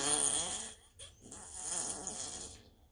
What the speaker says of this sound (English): Listen to this frosty Christmas fart.